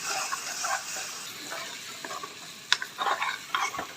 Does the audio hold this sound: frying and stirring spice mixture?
yes